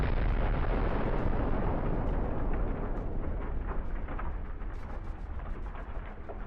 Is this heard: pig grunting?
no